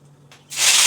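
Curry leaves hit hot oil in a pan with a sudden loud burst of sputtering hiss that swells and holds, after a brief quiet moment.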